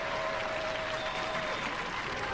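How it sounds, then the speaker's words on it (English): Studio audience applause for a three-generation robot-building family on a robot combat show, a steady dense wash of clapping at moderate level with a faint tonal hum running through the first part. "Give them a round of applause!"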